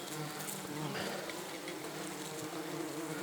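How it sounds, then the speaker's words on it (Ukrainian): A dense, continuous buzzing of many wasps and bees swarming close by at a hive entrance, droning steadily with no pauses. "Відкриваємо ляток. Оси вилазять."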